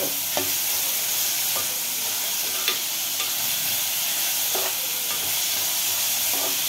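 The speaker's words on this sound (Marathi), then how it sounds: "आता आपण कांदा चांगल्यापैकी कोंबून घेतोय" Onions fry in hot oil in a pan for a mutton masala, giving a steady close sizzle with a few scraping stir strokes spaced through it.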